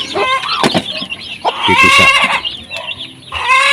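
Native hens cluck busily and repeatedly close by on a poultry farm, in bursts of varied calls with a few brief spoken words mixed in.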